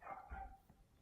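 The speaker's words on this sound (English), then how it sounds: "If you hear a dog, that's outside." A dog barks a few times in quick succession, muffled and somewhat distant, as if from outside.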